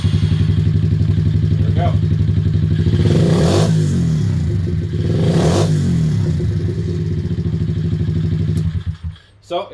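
A pit bike engine fires up after a valve adjustment and revs loudly, rising and falling in close, clattery bursts before cutting off; a voice speaks briefly over it.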